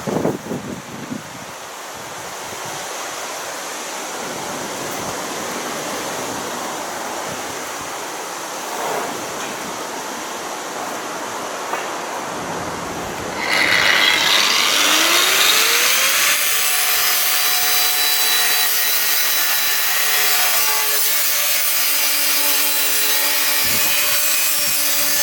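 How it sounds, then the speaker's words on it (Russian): A hand saw cuts through wood for a shooting target stand, first soft scraping strokes, then louder, faster rasping back-and-forth sawing close by, with no talking. "Ну что, пилим?"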